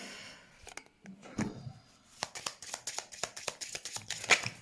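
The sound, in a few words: shuffling oracle cards for a card reading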